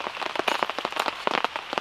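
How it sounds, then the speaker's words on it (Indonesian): Heavy rain patters onto surfaces in a forest during a thunderstorm at a solo campsite, a dense, close, irregular crackle of drops hitting nearby, steady throughout with no voices. "Ini hujannya nggak berhenti ya. Nah, malah tambahkan kayaknya."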